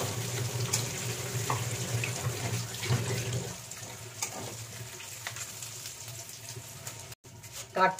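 A dried red chili, bay leaves, whole garam masala and cumin seeds sizzle in hot oil in a pan, a steady close frying hiss with a few stirring scrapes, fading toward the end.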